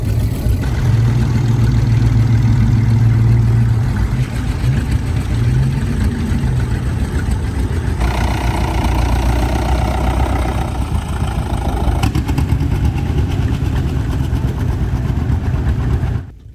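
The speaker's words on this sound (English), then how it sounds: "Here's the other tractor and you'll see it leave in a minute." A vintage tractor engine runs at a village show, a steady, loud, close-up idle with a low chugging throb that holds for the full length, with slight shifts in tone partway through.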